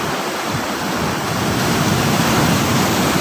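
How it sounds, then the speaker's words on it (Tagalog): Big sea waves pound against rocks along a rugged shore, a loud, unbroken roar of surf and churning water that builds slightly in the second half, close by with no voices. "hinahampas ka dito sa laki ng alon dito"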